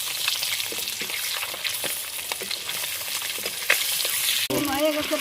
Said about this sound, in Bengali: 1 পিঠ ভাজা হয়ে গেছে।